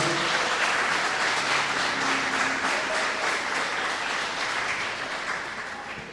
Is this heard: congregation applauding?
yes